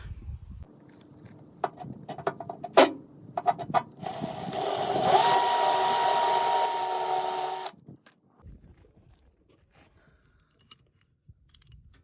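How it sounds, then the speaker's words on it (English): Quiet clicks and scrapes give way to a high-pitched power drill whining for a few seconds as it bores holes in a metal frame of a 2020 Chevrolet Silverado, then it stops and faint tapping follows. "So let's drill some holes, tap them"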